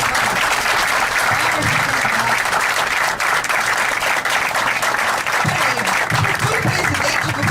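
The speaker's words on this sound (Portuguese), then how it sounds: "agora é a hora de bater palma para os candidatos." A crowd applauds the candidates for Flamengo club president at a debate, sustained loud clapping filling the room from start to finish, with a voice speaking over it.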